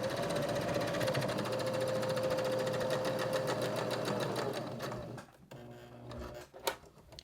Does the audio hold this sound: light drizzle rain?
no